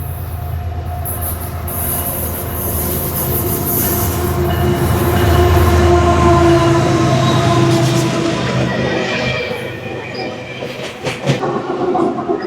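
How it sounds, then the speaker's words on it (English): A long freight train rolls past nearby on an uphill grade with continuous rumbling wheels, rhythmic clatter over the rails and high metallic squeals, swelling louder midway then easing off. "Long ass train."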